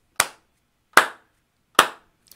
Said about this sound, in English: the first thing I do is three claps